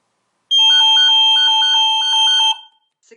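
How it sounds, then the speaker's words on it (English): Nest Secure home security alarm sounding loud and close: a rapid repeating electronic pattern of high piercing tones in pulsed groups for about two seconds, then cutting off, with no one talking. "The alarm will sound in 10 seconds."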